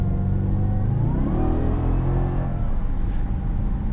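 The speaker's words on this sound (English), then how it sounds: "in our 2009 Supercharged Dodge Challenger." Supercharged 6.1-liter V8 of a 2009 Dodge Challenger SRT-8 with a 5-speed automatic, a loud continuous low rumble that rises in pitch as it revs, heard close from inside the car.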